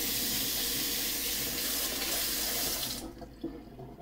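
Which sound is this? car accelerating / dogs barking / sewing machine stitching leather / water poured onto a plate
water poured onto a plate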